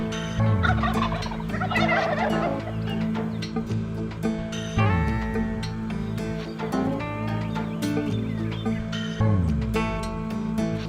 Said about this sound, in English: He's got a really deep gobble.